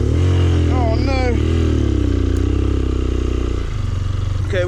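A Rieju Marathon Pro enduro motorcycle runs loud and close with a steady engine drone during an upstream enduro ride, the revs holding and wavering throughout while a person talks and exclaims over it.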